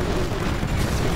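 Rocket bombs explode during an air combat video game, a dense, continuous rumbling blast wash that fills the short moment with loud, even roar.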